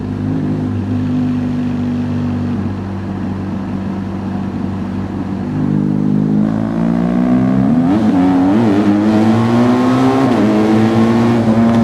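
A motorcycle on an Alpine mountain road in Switzerland pulls away hard and its wheel spins. The engine drones steadily, then climbs loudly and close through rising revs with brief dips between them. No voices are heard.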